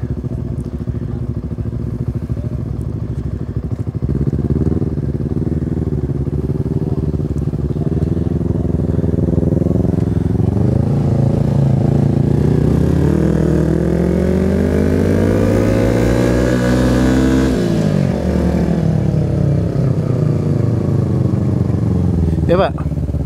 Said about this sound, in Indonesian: Dia pakai knalpot Tridente.